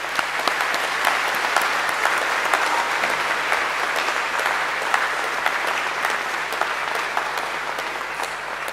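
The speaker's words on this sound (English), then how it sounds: "One more round of applause" A graduation ceremony audience for hospitality management graduates breaks into sustained, dense applause, an even wash of many hands clapping that holds steady from start to finish.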